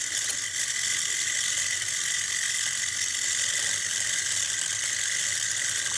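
Stellaphone ST450 reel-to-reel tape recorder under restoration, its mechanism and brake producing a steady high whirring, squealing drone with faint ticking, close and constant throughout and no speech.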